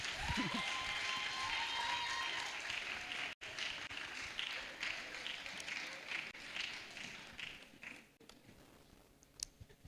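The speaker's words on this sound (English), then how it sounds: "Please clap for the media." Steady applause from an audience at a women's institute event, a dense wash of clapping that holds strongly, then thins and fades toward the end, with a few sharper claps standing out.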